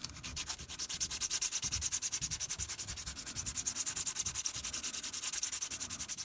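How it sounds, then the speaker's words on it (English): Sandpaper rubbed at a 45-degree angle across the layer lines of a 3D print, a close, continuous rhythmic scratching with quick regular strokes, steady throughout. "You can feel the sandpaper get faster when the print lines are worn down."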